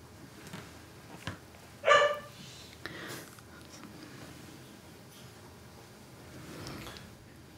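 A dog barks indoors, a short burst of a few sharp barks that stand out loudly once over a quiet room, with faint household noise before and after.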